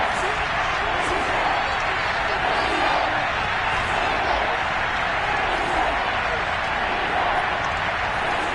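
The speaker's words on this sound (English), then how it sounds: "This is where the KC crowd can make it very tough." Kansas City football stadium crowd roars steadily at third and goal, a dense, loud, unbroken wall of cheering noise throughout.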